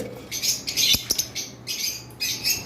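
Caged finches, including a green finch and an albino black-eye, chirp in quick, high bursts, several birds twittering close by with short pauses between flurries and a couple of soft knocks.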